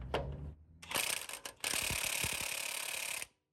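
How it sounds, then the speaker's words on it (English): A DeWalt 1/2-inch impact gun with a 3-inch extension and short 19mm socket hammering on a CV axle nut of a Toyota 100 Series Land Cruiser, in loud rattling bursts, the longest lasting about two seconds. "I'm using my 1/2-inch DeWalt gun, 3-inch extension, and a short 19mm impact socket."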